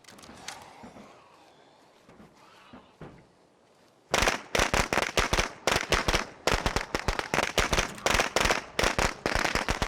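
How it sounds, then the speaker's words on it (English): Firecrackers burst in State of Decay, a long rapid string of loud sharp cracks starting after a quieter stretch with scattered pops, close and continuous with no talk. "You throw another firecracker."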